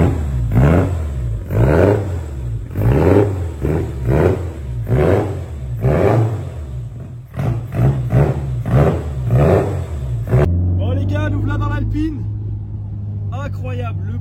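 An old Alpine A110 with a carburetted engine on a road test, revving and pulling hard in repeated rising surges from inside the car, then settling to a steady drone as people talk over it.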